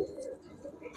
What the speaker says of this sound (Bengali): মাশাআল্লাহ, খুবই সুন্দর কবুতরগুলা,